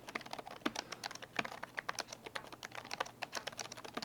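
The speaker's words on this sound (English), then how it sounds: "here's what the keyboard sounds like when you type on it" Rapid, soft clicking of ASUS Zephyrus G15 laptop keys being typed on continuously, close and fairly quiet, with no voices.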